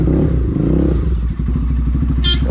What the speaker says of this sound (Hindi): आज भाई हमारे पास है पल्सर दो सौ एन जिसमें हमने ये एग्जॉस्ट की थी